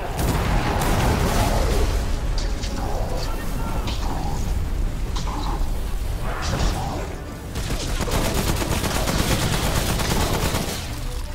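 Gunfire in the video game Remnant: From the Ashes, with loud bursts of repeated shots and fusillades coming in clusters along with mechanical clanks, while players talk over the action.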